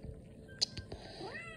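Cat gives a short meow with a rising, wavering tone near the end, close but fairly soft over a low background.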